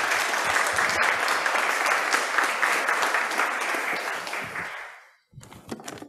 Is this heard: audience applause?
yes